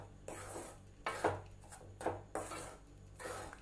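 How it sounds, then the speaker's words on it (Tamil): Rice flour roasted in a pan for sweet pidi kozhukattai, heard as repeated close scraping strokes of a spoon across the pan in an uneven rhythm, fairly faint, with no talk. "அரிசி மாவு 2 நிமிஷம் நல்லா வறுத்துட்டேன்."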